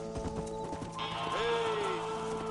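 Horse hooves clop in a Red Dead Redemption 2 cattle-driving scene, with rapid hoofbeats under a steady outdoor game ambience and a brief whinny-like tone.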